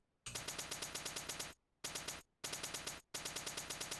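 Rapid automatic gunfire from a prototype hybrid video game shooter, loud and close, in three long bursts split by short silent gaps.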